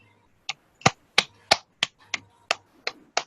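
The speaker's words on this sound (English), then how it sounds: "Show us how is the triangle clap." Nine crisp, isolated claps in a fairly even rhythm, close and clear against a quiet room, as children try out a triangle clap in class.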